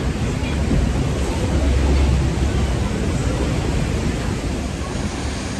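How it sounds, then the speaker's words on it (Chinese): Steady, loud broadband roar of the Rhine Falls waterfall up close, heard from a large rock in the middle of the falls with cascades on both sides, a dense unbroken rush with no speech. "我们现在已经到莱茵瀑布跟前了。"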